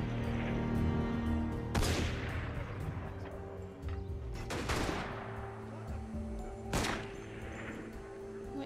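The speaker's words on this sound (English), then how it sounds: "Can you stop shooting me for a second?" Gunfire in Assassin's Creed Unity: three sharp, loud shots cracking out at spaced intervals over a dense bed of game music and ambient rumble, with voices faintly present.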